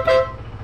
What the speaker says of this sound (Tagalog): Then ito yung loud horn